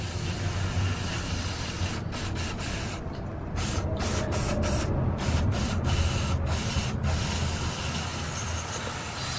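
A steady hiss of mass airflow sensor cleaner sprayed onto a C5 Corvette's MAF sensor runs throughout, broken by several short pauses between bursts, close and fairly loud.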